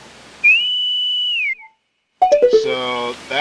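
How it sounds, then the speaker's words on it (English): Horse grass whistle from a beta build of Ocarina of Time, a clear sustained tonal whistle with a short pause, then a series of quick descending notes leading into a held tone. "Horsegrass whistle."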